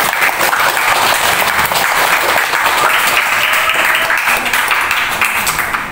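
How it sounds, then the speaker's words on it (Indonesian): Loud sustained applause from a village audience at a financial literacy outreach session, thanking a presenter named Pak Isam; dense, even clapping fills the whole stretch. "Boleh tepuk tangan dulu untuk Pak Isam."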